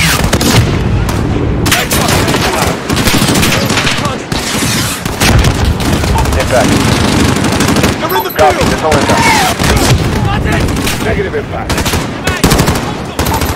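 Rapid automatic gunfire and heavy blasts from a Call of Duty: Modern Warfare campaign battle at an embassy, loud and continuous for the whole span, with bursts overlapping and shouted voices mixed in.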